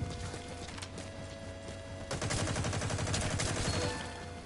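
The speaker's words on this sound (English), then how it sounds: "Whoa, chill out with that grenade launcher." Rapid bursts of weapon fire in a Metal Gear Online match, with a grenade launcher firing, dense and loud, intensifying after about two seconds into a sustained crackling barrage with no talk.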